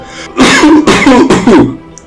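Three loud, close coughs in quick succession, each a harsh burst, with a brief pause and quiet background after them.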